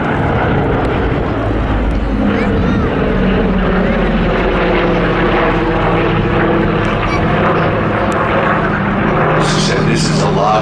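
A North American B-25 and a Douglas DC-6 of the Flying Bulls fly past at the Midlands Air Festival, a loud sustained propeller drone with a narrator talking over it.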